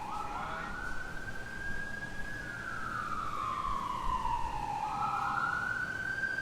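An emergency vehicle siren wails past outside, a single rising and falling tone sweeping slowly over steady background noise, moderately distant and without talk.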